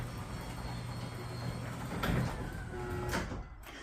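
A Genie Whisper Quiet 3/4 horsepower garage door opener runs with a steady low mechanical hum and faint rumble, ending in a soft clunk as the door stops.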